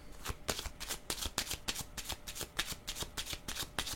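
Tarot cards being shuffled up close in quick, riffling bursts that repeat steadily throughout, crisp papery slaps and flutters with no talking over them.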